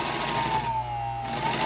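Singer sewing machine fitted with a Superbelt motor belt and a small 0.4 amp motor, running steadily for under two seconds: a continuous whirring hum with a low drone, close and alone.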